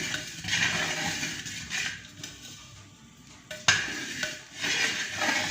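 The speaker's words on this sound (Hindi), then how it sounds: "देखें चावल अब मिक्स हो रहे हैं।" A spoon stirs rice into thick kheer rice pudding in a pot, giving soft scraping and occasional clinks of metal against the pot, quiet and close with no voices.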